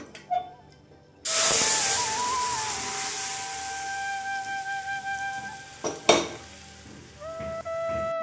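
Hot tempering of cumin and dried chillies hits boiled mung dal with bottle gourd and turmeric, bursting into a loud close sizzle that settles into a steady hiss with a few clatters near the end.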